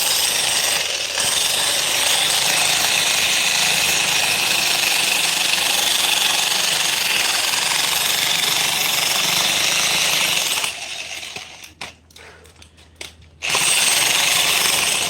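A jackhammer pounds continuously at material, loud and close, with a brief pause near the end before the hammering starts again.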